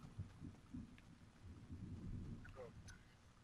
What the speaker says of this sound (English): It's a fucking storm, bro.